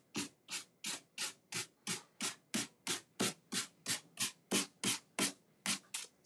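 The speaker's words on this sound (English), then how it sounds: "I like to have something in my fingers when I'm sanding rather than just the piece of paper." Sandpaper wrapped around fingers rubs back and forth across a charcuterie board being decoupaged, in about seventeen even, close-up scratchy strokes with short pauses between them.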